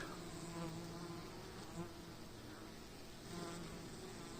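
Bees buzz steadily around beehives in the wild Carpathian mountains, a close, continuous swarm drone with individual insects passing near and away, no talking.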